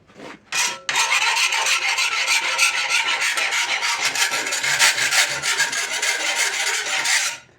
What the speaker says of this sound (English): we're going to take a file and just quickly remove the burr from where we were cutting everything